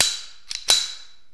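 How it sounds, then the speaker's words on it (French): Metallic clicks of cocking the hammer on a Beretta 70 pistol in 7.65 mm, a sharp snap followed by a couple of quick light clicks and a second crisp snap, close and alone. "Donc on peut armer le cran comme cela."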